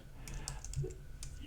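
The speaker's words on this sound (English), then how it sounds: "let me get typing here" Typing on a computer keyboard while setting up a Nikon Z8 camera menu, a quick run of light clicking keystrokes close by, with a faint voice underneath.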